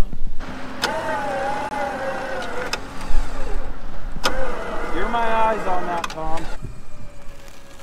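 A Morrvair car engine cranks and starts in a snowy mountain setting, with loud tonal mechanical whirs rising and falling under nearby voices.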